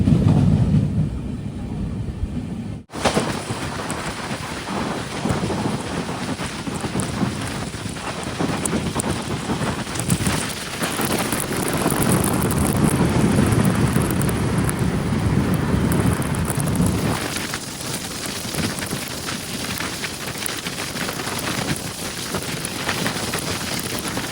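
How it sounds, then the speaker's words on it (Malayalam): Heavy rain and strong wind roar steadily past the Matsyagandha Express sleeper train as it travels near the Sharavathi river bridge, a dense, continuous wash of sound that swells and eases over about twenty seconds, with no talking. "ഓരോ ഭാഗത്തുമാണ് മഴ."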